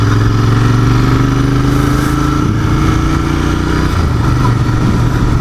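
A 2019 Royal Enfield 650 twin, Continental GT or Interceptor, being ridden: a loud, steady engine and exhaust drone with shifting pitch as the revs change, close and continuous with no talking.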